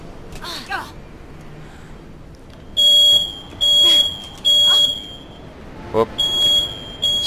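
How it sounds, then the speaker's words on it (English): A household smoke alarm, set off by cooking downstairs, beeps in loud repeated bursts of a few short shrill tones, starting partway in and recurring over several seconds, after some brief faint sounds at the start. "So what you're hearing in the background there is the smoke alarm going off."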